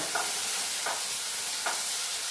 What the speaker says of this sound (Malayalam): ഇതൊന്ന് വഴറ്റിയെടുക്കണം. തക്കാളി ഒന്ന് വഴലണം കേട്ടോ